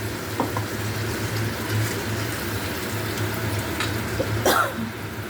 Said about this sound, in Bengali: তো আমি এবার এই কৌটোটা মশলা দিয়ে জলটা দিয়ে দিলাম।